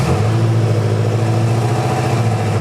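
A BMW M5 fitted with a loud exhaust rumbles after a cold start, a steady, close, deep engine drone that fills the whole clip without pause.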